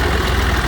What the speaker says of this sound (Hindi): तो जी हम ट्रैक्टर के ऊपर बैठ चुके हैं